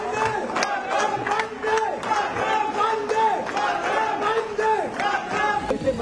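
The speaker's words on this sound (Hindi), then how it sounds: "दिल्ली एयरपोर्ट पर लोगों ने भारत माता की जय के नारे लगाए, वंदे मातरम का उद्घोष किया" A crowd at Delhi airport chants patriotic slogans in rhythmic unison, loud and close, with overlapping shouts and cheers.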